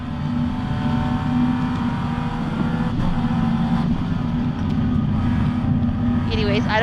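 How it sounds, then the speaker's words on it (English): Steady loud race car engine drone with a constant low rumble and buffeting wind noise, heard from inside the moving race car; a brief voice near the end. "I want to hear the car"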